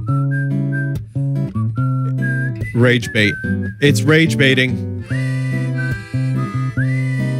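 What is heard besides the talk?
loud whistling in a commercial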